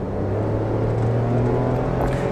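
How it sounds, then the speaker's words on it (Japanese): A Daihatsu Move, a new naturally aspirated model, with its engine droning steadily at high revs under acceleration, heard from inside the cabin as a constant low hum with no talk. "コクンと言ってエンジンノイズが高まったのをマイクに入ったかな"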